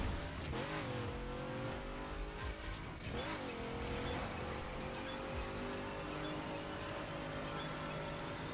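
A car sliding and drifting in the racing game The Crew, with a loud engine note and tires squealing in several sweeping bursts over a continuous game soundtrack.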